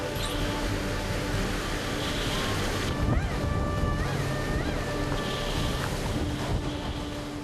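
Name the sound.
large waves hitting a 29-ton fishing boat at sea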